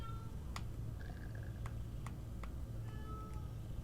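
A cat named Samuel, being petted, lets out two short, soft meows, one near the start and one near the end, against a quiet room hum with a few sharp clicks.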